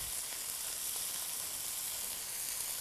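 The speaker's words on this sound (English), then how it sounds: "now I'll saute them until they're browned on both sides" Lightly floured top sirloin beef strips sautéing in butter in a pan, a steady, close, dense sizzle and crackle throughout, with no talking.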